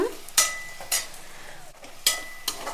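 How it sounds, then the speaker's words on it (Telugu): Onion pieces frying in ghee in a pan give a soft steady sizzle, broken by several sharp scraping stirs of a utensil against the pan at uneven intervals, close by with no talking. "ఇప్పుడైతే ఉల్లిపాయ ముక్కలు అయితే కొంచెం ఎగుతున్నాయి అన్నమాట"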